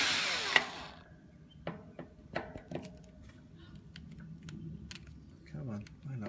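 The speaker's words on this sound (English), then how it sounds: "You can take these 2 screws off." Screws being taken out of a 16-inch Hunter box fan, close sharp clicks and taps of a tool against plastic in uneven bursts, with a brief whirring turn near the end and a voice speaking.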